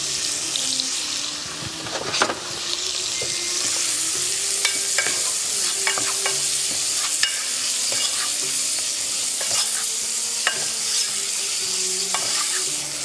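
Meat and onion fry in olive oil in a pot, giving a loud, steady sizzle throughout with repeated clicks and scrapes of stirring.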